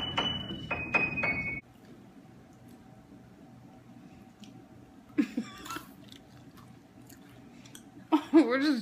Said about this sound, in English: Chewing away.